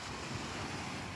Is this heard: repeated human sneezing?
no